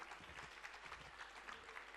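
Steady applause from a conference plenary session audience, a dense patter of many hands clapping together, somewhat distant and sustained throughout.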